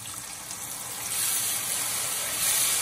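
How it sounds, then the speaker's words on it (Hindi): Chopped tomatoes dropped into a pan of sizzling masala for tomato rice, a hissing, watery sizzle that swells louder partway through, close up, no speech. "बस अब हम इसमें जो हमने चॉप करे थे टमाटर वो डालेंगे।"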